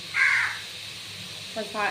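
A crow caws twice outdoors, a loud call near the start and a shorter one near the end, heard during home cooking of a soya chunk (meal maker) pulao, with faint voice-like sound in between.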